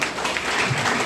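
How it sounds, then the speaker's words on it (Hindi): An audience at a talk in India claps together in a brief, dense burst of steady applause. "जोरदार ताली होना चाहिए।"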